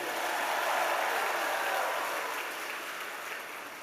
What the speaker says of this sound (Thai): สมควรที่จะปรบมือให้กับตัวเอง